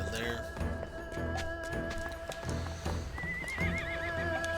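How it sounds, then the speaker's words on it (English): A horse in Octopath Traveler 2 whinnies over steady clip-clopping hooves, set against continuous game music, with a rising neigh near the end. "Horses are gentle and sensitive animals."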